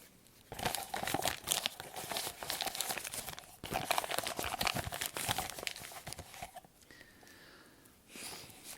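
Wrapping paper crinkling and rustling continuously, close by, with bursts of tearing and crumpling that keep a busy, uneven rhythm throughout.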